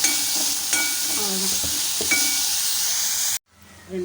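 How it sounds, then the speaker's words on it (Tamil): Tomatoes with salt and a little tamarind sauté in a pan, giving a steady close hiss of frying with a few light scrapes and clinks. The sizzle cuts off suddenly near the end, leaving faint quieter noise. "தக்காளி வந்து நல்லா வதங்கி வரட்டும்"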